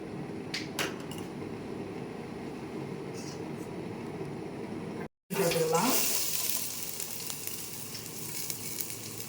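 Shredded cabbage hits hot oil in a pan for chicken fried rice, a sudden loud sizzle that settles into steady frying, following a quieter stretch of low hiss with a few clinks.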